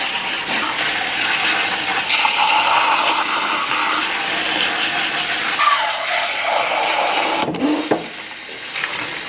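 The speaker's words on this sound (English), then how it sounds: "I'm gonna just drain the beans" Cooked beans drained in a kitchen while making escarole and bean soup: a loud, continuous rushing hiss of pouring water that runs close and steady, then briefly cuts out and tapers near the end.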